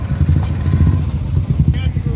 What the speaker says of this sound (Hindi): बाइक हो हाम्रो पवन भाइको,